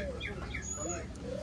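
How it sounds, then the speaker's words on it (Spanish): Soft, low cooing of pied ringneck doves close by, with a few faint chirps mixed into the quiet background. "aquí le estoy mostrando tórtolas collarines pinta"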